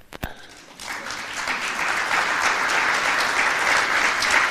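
Audience clapping at the 5th Congress of the International Trade Union Confederation–Africa in Nairobi, building from a few early claps into sustained, dense applause that holds steady to the end.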